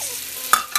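Celery and onion cook in a pan for potato soup, a soft sizzle broken by two quick clattering bursts of stirring near the end.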